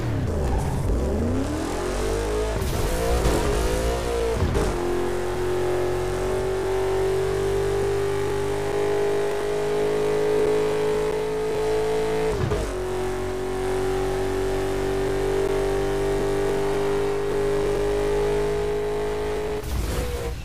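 Racing car engines in Burnout Paradise Remastered drone loudly and continuously, with revving rises and gear shifts at a few points over a sustained high-pitched engine whine, and no talking.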